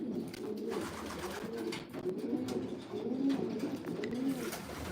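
Racing pigeons crowded in a wicker basket before a race to Honiton, cooing continuously in overlapping soft rolling coos, steady and close, with no talk.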